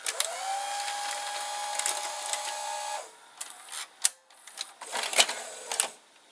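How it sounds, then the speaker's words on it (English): An MTC MCR 215R VCR mechanism with a worn idler ejects a cassette: a steady motorized whir runs for about three seconds, then stops and gives way to several sharp mechanical clicks and clunks, close and fairly loud. "So now I press eject."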